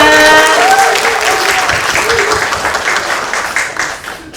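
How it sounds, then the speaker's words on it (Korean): Audience applause before a CEO's presentation at a seminar on overseas investment, with a burst of clapping from a seated crowd that gradually thins and tapers off, a voice briefly heard at the start. "우리 마지막으로 큰 박수 부탁드립니다."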